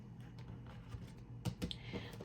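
A deck of tarot cards being shuffled by hand, heard as quiet, scattered soft clicks and flicks with a couple of brief louder snaps near the end, with no voice over it.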